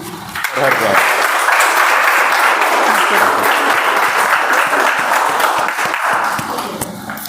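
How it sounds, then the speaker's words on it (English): Meeting audience breaking into a big round of applause for the presiding officer at a club meeting, loud and dense clapping that swells quickly and holds steady before tapering off at the end. "Ladies and gentlemen, with a big round of applause"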